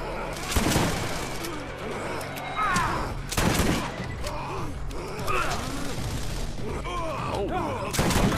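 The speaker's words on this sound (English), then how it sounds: "I just send them flying every time I shoot them" Gunfire in the Borderlands video game, with repeated sharp shots and booms mixed with mechanical clatter and game effects, steady and loud throughout, with a player's vocal sounds here and there.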